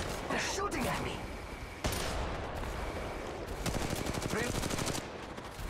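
Rapid bursts of automatic gunfire in the Apex Legends Mobile shooter, dense sustained fusillades broken by brief gaps, loud and close, with a voice speaking over the shooting.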